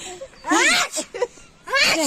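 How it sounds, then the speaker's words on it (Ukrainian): Two sharp sneezes burst out in short succession, close and clear, with a brief vocal sound between them. "Ой, чихавка напала."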